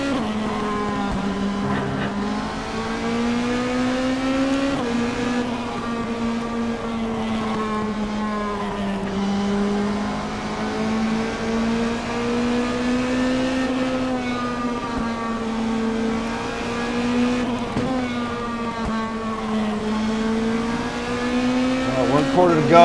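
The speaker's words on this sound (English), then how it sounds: "Sim Vibe hitting the rumble strips." Race car engine droning steadily in the StockCar 2013 sim while the car runs over rumble strips, with a loud, continuous tone that wavers in pitch and faint rattling texture over it throughout.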